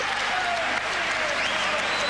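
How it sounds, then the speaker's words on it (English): Sustained applause from a boxing crowd greeting the official verdict at the end of a bout, a dense steady wash of clapping that fills the whole moment. "And Chris Davies, the first to applaud."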